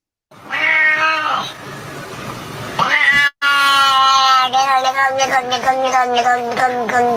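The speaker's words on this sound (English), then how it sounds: "I went out and I got a cat." A newly acquired cat meows loudly in a long series of drawn-out, wavering cries with a brief gap midway, close to the microphone and sounding almost like a crying child.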